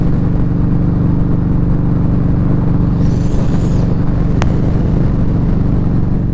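A Victory Highball motorcycle rides along a city street with a steady, loud engine rumble and wind noise, the engine holding an even pace throughout with a brief faint whine partway through.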